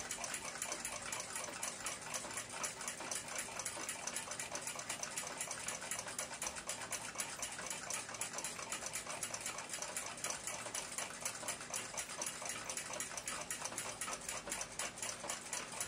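A small brass screw head from an Ansonia crystal regulator clock is rubbed by hand in figure-eight strokes on fine abrasive, a fast, steady, even scratchy ticking that runs continuously, close and quiet, with no talking.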